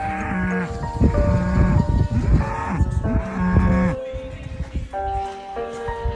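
Cattle on an Amish farm moo repeatedly and loudly, several overlapping drawn-out lowing calls close by, some bleat-like, with little pause between them.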